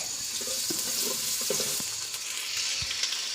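Biryani spices fry in a cooking pot with a soft, steady sizzle, close up, punctuated by a few faint clinks and stirring scrapes, no talking.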